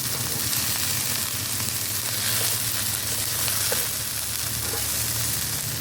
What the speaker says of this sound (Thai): คั่วแบบต้องใส่น้ำมันนะครับ เริ่มจะมีร้อยไหมแล้วนะครับ